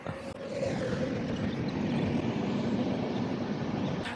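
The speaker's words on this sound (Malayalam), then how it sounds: "ഈ പ്ലാറ്റ്ഫോമിൻ്റെ അപ്പുറത്തെ പ്ലാറ്റ്ഫോമിലായിട്ട് ഒരു ട്രെയിൻ പറന്നു പോവുക." A steady, loud rumbling roar of a train rolling past on the adjacent platform at a station in Tuticorin, sustained and even throughout with no voices.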